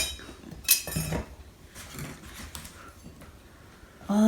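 Unboxed knives and cutlery, among them a small bread knife, are handled with scattered light metallic clinks and taps, a few sharper chinks standing out over quiet room tone, with no voices.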